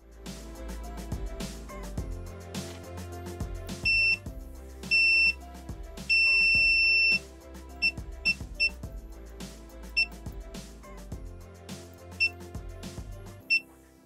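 A Winapex 268B digital clamp meter sounds sharp electronic continuity-test beeps in short bursts and one longer tone, against faint clicking and handling noise nearby.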